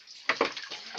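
Tripe being washed in water, two quick splashes followed by softer sloshing, brief and close.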